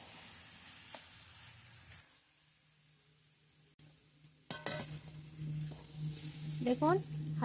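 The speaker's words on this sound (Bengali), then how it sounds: "ঘি দিয়ে দিয়েছি নেড়ে চেড়ে নামিয়ে নেবো" Carrot halwa cooking in ghee in a pan, a soft sizzle with scraping stirs that grow louder and busier in the second half after a quieter stretch.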